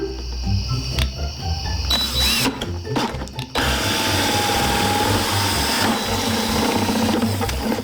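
Power drill bores holes into a plastic bucket, its loud whine starting and stopping in short bursts before running steadily, no voices during the drilling.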